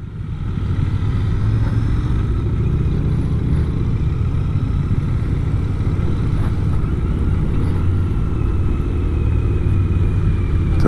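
A Royal Enfield Interceptor 650 motorcycle being ridden through Campinas, its engine giving a steady, loud, low rumble that continues without a break and with no talking.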